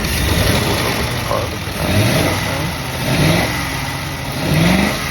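A 1935 Ford Model 48 Deluxe rumble seat coupe with a flathead V8 and new plug wires runs close by, a loud steady rumble that swells in several revs, without speech.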